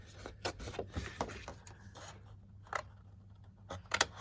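Scissors snip through craft paper trimming excess from a landscape gift bag die cut, a few short crisp cuts close by with rustling handling sounds in between and no talk.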